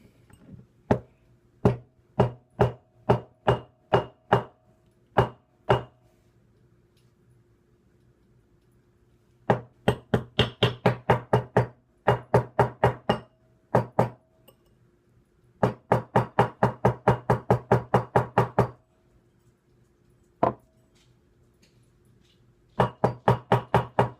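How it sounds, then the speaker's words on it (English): A small ball peen hammer taps a silver quarter ring on a mandrel in sharp metallic knocks, first slow single strikes, then quick bursts of rapid tapping separated by pauses. "I'm going to start tapping it with this little ball peen hammer I picked up."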